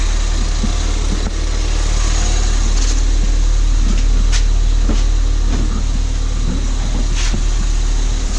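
A Ford Fiesta ST engine runs steadily in gear at a low, even rumble on axle stands after a crash, with faint mechanical ticks and a few light knocks over the top; no talking.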